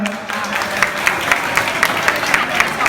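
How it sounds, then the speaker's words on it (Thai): Brief crowd applause at an award announcement for a university campus beauty contest in Nonthaburi, Thailand, with distinct claps standing out over a busy, murmuring background. "ขอเสียงปรบมือด้วยครับ"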